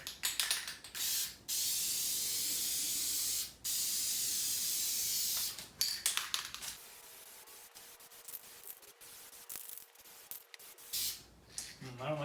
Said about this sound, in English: I don't like spraying towards that Mustang.